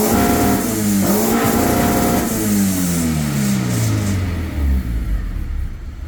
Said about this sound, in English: So let's go ahead and give her a proper rev.